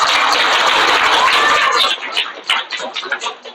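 Applause for teachers and children at a school in Bihar: a dense burst of clapping for about two seconds, then breaking into a few scattered, uneven claps before fading out.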